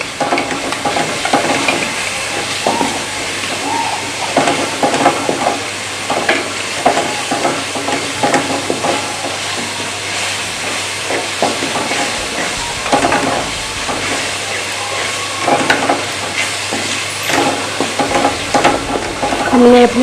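Spice masala roasting in a pan for aloo methi, a steady close sizzle broken by repeated scraping stirs throughout, with no voices.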